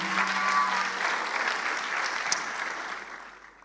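An audience at a gathering breaks into sustained clapping that holds steady and then tapers away toward the end.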